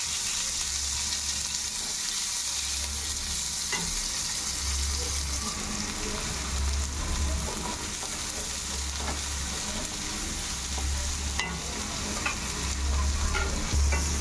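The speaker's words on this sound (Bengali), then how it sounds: "তেলে একটা শুকনো লঙ্কা তেজপাতা ফোড়ন দিলাম। এবার পেঁয়াজ কুচিগুলো দিয়ে দিচ্ছি।" Chopped onions hit hot oil already tempered with a dried red chilli and a bay leaf, giving a loud, close, steady sizzle with stirring scrapes throughout and no speech.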